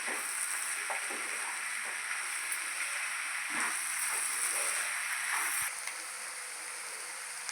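Egg fried rice sizzles steadily in a hot pan, a continuous close frying hiss with faint scraping from stirring, no voices.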